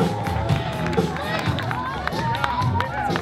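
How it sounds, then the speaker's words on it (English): A crowd at a Memorial Day race claps and cheers steadily and loudly throughout, with voices mixed into the applause. "Let's give a round of applause."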